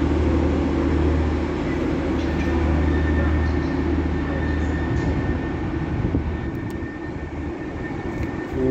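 TransPennine Express trains, a Class 185, a 140 and a 149, pull out of Manchester Victoria bound for Manchester Airport, a steady loud rumble of engines and rolling stock that holds throughout with no voices.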